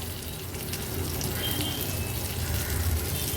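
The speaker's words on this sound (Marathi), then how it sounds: "हाय फ्लेमवर फक्त थोडंसं असं आपण त्याला हलवून घेऊया" Stuffed capsicums sizzle loudly in a pan over a high flame as they are stirred and turned, a dense continuous frying hiss with faint scraping, close and steady throughout.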